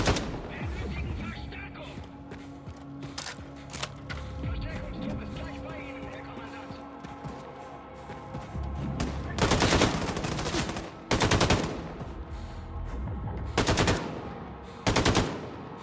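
Gunfire from the video game Wolfenstein 2: The New Colossus, with scattered shots under a voice giving commentary, then several loud sustained bursts of automatic fire.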